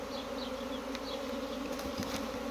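A swarm of bees forms a thick, continuous buzzing cloud, steady and enveloping, with a few brief sharper sounds rising over it.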